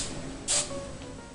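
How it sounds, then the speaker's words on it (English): A single short burst of Tresemme extra hold hairspray is sprayed onto curled hair, a quick close hiss lasting about a tenth of a second amid quiet room noise. "I like to spray each little like tier that you do to your head"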